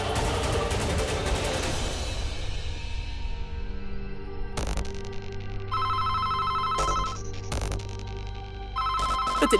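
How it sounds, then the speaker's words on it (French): A telephone rings indoors, its electronic trilling tone starting after a fading rumble and repeating in bursts, interrupted by short sharp bangs, with no voices. "Le téléphone sonne."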